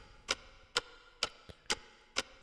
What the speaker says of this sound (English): We use this clock effect as well.